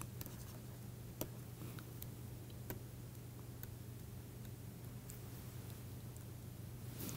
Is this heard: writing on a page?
yes